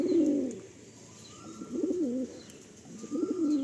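Domestic pigeons in a loft at Sodepur, Andhra breed, coo in soft repeated low bursts, three phrases with brief pauses between them, close and fairly quiet, with no voices.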